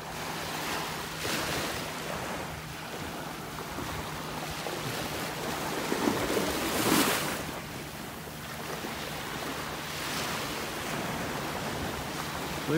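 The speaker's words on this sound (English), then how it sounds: "Just some little tiny waves rippling along the shore here this morning." Small, gentle waves lap along a calm beach shoreline in North Naples, Florida on a flat morning, a steady soft wash of surf with light wind noise and one slightly louder ripple partway through.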